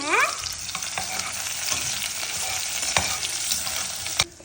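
Onions frying in a pan until golden, a loud steady sizzle with repeated stirring clicks and scrapes, one sharp knock near the end, no voices.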